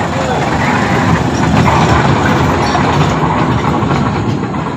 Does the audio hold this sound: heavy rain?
no